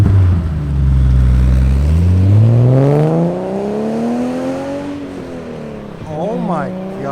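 A loud BMW E34 535 engine fitted with racing headers revs up hard, its pitch climbing then dropping, with a brief throaty burst at the end; nearby voices are faint.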